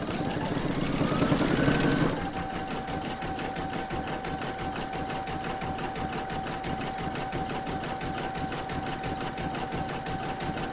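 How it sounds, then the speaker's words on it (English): An embroidery machine stitching the final satin stitch round around the edge of an in-the-hoop photo frame, a fast, steady mechanical chatter with a thin whine, a louder burst at the start, then even running. "you're going to stitch round number 10, which is the final satin stitch round around the edge"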